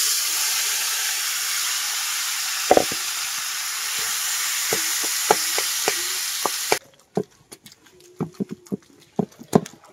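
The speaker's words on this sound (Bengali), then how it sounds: "বরবটিটাও হালকা ভেজে নিব।" Yardlong beans frying lightly in a pan with onions, a steady sizzle under scattered pops and clicks of stirring that cut off abruptly partway, leaving sparse close taps and scrapes.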